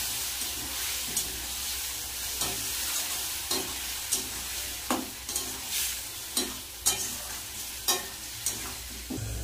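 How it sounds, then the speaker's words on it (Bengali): Tomato and ground ginger-garlic-onion paste frying with potatoes and onions for a crab curry, a steady close sizzle broken by repeated scraping stirs at a fairly regular rhythm. "এবার দিয়ে দেব কেটে রাখা টমেটো, তার সাথে দিয়ে দেব মশলাটা যে বেটে রেখেছি, আদা রসুন পেঁয়াজ দিয়ে দেব।"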